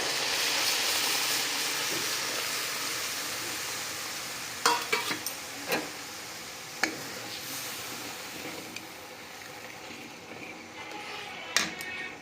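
Prawn curry masala with coconut milk bubbling in a pan, a dense hissing simmer that slowly fades, broken by several sharp clinks and scrapes of a spoon stirring, close by.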